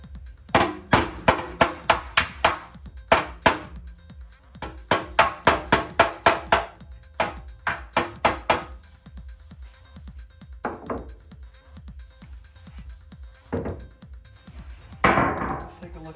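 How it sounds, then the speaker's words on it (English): Repeated hammer-and-dolly blows on a Triumph Spitfire steel body panel: sharp metallic taps in quick bursts of four to six, close and loud, then sparse single knocks with brief pauses between. "I'm gonna try to put hammer on real quick."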